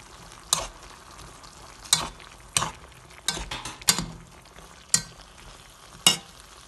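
A spoon stirs chicken curry in a pan in about seven separate scraping strokes spaced roughly a second apart, each a short clatter over a faint, quiet bubbling simmer, without talking.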